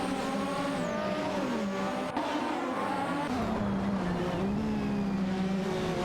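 Racing game cars, a McLaren MP4/4 and a Lotus 100T, duel on track with loud high-pitched engine whines rising and falling through gear changes, continuous and close.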